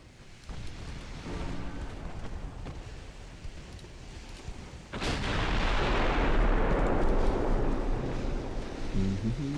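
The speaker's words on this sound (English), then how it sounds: "There's some HE shells. See what they do." Naval guns fire high-explosive shells in the Ultimate Admiral naval warfare game, a heavy booming blast followed by a long, loud rumbling roar that swells and lingers over a softer background of distant gunfire and sea.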